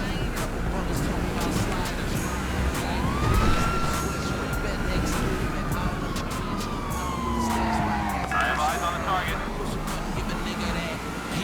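In GTA 5, police sirens wail and sweep up and down over a constant roar of engines and traffic, loud and close throughout.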